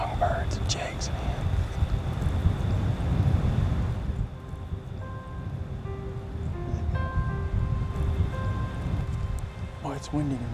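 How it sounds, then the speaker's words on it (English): Strong wind blows outdoors in open deer country, a loud, steady rushing roar under someone speaking softly, with faint birdsong chirps toward the end. "Boy, it's windy tonight."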